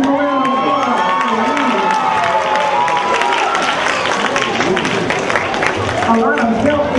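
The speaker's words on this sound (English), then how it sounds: "Let's give them a round of applause." Loud audience applause and cheering fill a school Black History program, a steady wash of clapping and crowd noise with shouting voices mixed throughout.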